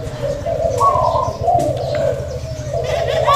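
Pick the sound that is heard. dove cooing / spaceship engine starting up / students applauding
dove cooing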